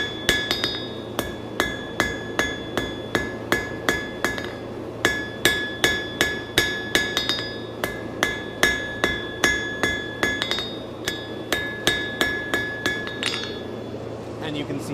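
A blacksmith hammers hot steel flat on an anvil, tapering one side for a steak turner: a long, steady run of sharp, ringing metallic blows, evenly spaced and close, continuing for the whole stretch.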